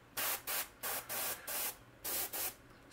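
Short bursts of spray paint hissing from an aerosol can, about seven quick sprays in an irregular rhythm, close up with brief pauses between each, while painting a fish.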